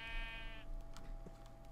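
A Minecraft sheep gives one clear, nasal bleat that tapers off after about half a second, followed by faint clicks and game noise.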